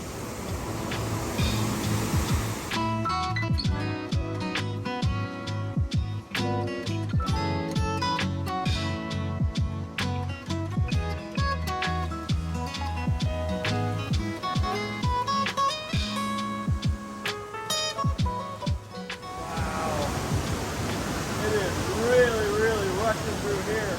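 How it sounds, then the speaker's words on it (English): A waterfall beside Highway 61 on Minnesota's North Shore, a steady broadband rush at the start and end, with a long stretch of tonal, music-like sound layered over it in the middle. "there's a waterfall right down there."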